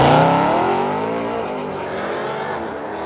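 A 2024 Mustang GT with a Roush Launch Edition supercharger makes a drag strip pass, its engine loud and close at first with harmonics sweeping upward, then fading a little as it pulls away.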